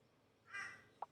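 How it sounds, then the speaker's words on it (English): In the game Killer Frequency, a crow gives a faint, distant caw, followed by two short, sharper calls close together. "That's an insistent crow."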